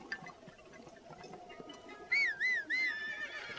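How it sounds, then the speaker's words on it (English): A horse in the Breath of the Wild video game gives a clear whinny, three quick rising-and-falling neighs in a row, loud against a faint background of ambient game sound. "Horse."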